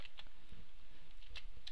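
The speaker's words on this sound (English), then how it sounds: "I'm having trouble typing." Quiet tapping on a computer keyboard, a quick irregular patter of keystrokes heard up close with no one speaking.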